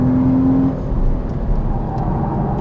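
The engine of a Porsche Cayman S drones steadily under throttle on a race track, with a continuous loud whir and road noise and no break in the power.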